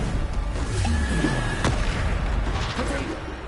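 Bombarda explosion spell cast in Hogwarts Legacy on PlayStation 5, a booming blast with a sharp crack midway amid ongoing game effects and rumble, with a voice talking over it.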